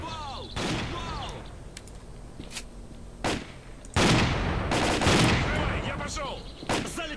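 Gunshots in S.T.A.L.K.E.R. Clear Sky, several sharp loud bursts spaced irregularly, with a heavier volley near the middle, over quieter background ambience.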